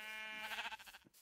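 A sheep in the video game Lost Island Survival bleats once, a loud, wavering, nasal cry lasting about a second that trembles toward its end before stopping abruptly.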